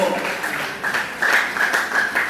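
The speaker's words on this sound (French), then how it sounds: "Messieurs, dames, est-ce que vous pouvez applaudir très fortement?" Audience applause at a charity gala evening in the DRC, a steady wash of many hands clapping at moderate volume, swelling slightly in the second half.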